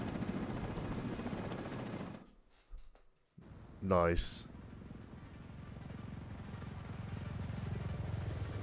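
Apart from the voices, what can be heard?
extraction helicopter in video game The Division 2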